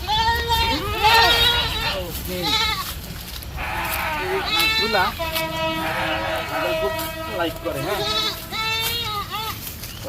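Goats bleat repeatedly at close range, with several wavering, overlapping calls arriving in uneven bursts throughout, mixed with a person talking.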